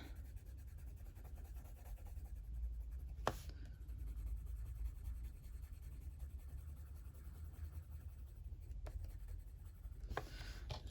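A coloured pencil burnishes skin tones on paper in an illustration, a soft steady rubbing close by and quiet, with a few sharp ticks as the pencil lifts.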